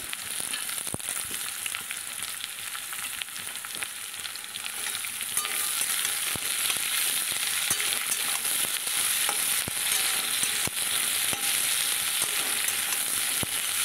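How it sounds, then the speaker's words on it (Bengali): Chopped onions fry steadily in hot oil, a dense continuous sizzle with scattered crackles and occasional stirring scrapes, growing slightly louder halfway through and heard alone without talk. "পেঁয়াজটাকে দিয়ে বেশ একটু লালচে লালচে করে ভেজে নেব"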